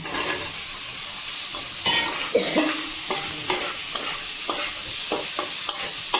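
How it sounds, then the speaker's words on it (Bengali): Potato and eggplant fry in a pan with a steady sizzle while a spoon stirs them, scraping and knocking the pan in a series of close, distinct strokes. "ভালো করে আমি নেড়ে চেড়ে নেব"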